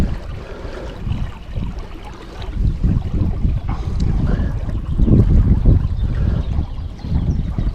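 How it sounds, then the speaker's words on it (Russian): Steady wind buffeting against the microphone while fishing for chub, a loud low rumble with gusts swelling and fading throughout, with faint water noise beneath. "ветер мешает сильно"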